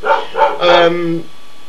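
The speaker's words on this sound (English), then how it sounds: "Do apologise for the dog going mental." A dog indoors gives two short sharp barks, then a longer, drawn-out yelping bark that trails into a whine. The barks are loud and close, with no speech over them.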